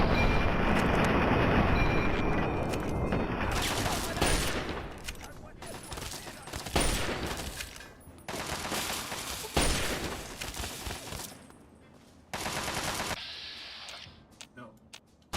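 Chinese assault rifle gunfire in the video game Fallout 3 comes as loud, close bursts of rapid shots broken by short pauses, with game sounds layered over it.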